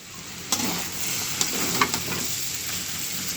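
Small puti fish hit a hot oiled pan already holding turmeric- and chili-seasoned vegetable stalks for a Bengali chorchori, giving a steady close sizzle broken by a few sharp utensil clicks and pops.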